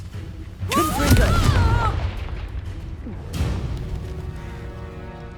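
A Confringo spell blast in Hogwarts Legacy: a sudden booming explosion with a whooshing magical burst, followed by a second, softer boom a couple of seconds later, with a voice shouting over the first.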